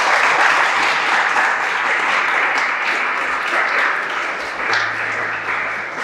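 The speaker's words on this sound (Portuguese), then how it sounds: "Dê uma salva de palmas para Jesus." Steady applause from a large church congregation fills the whole stretch, dense and sustained, swelling slightly near the end.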